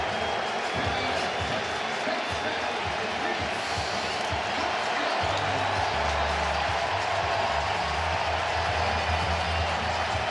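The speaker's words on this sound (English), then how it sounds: "We'll let that ovation from this crowd wash over him." A baseball crowd at a Phillies vs Braves game roars in a loud, sustained ovation of cheering and applause, a steady wash of crowd noise that swells slightly partway through.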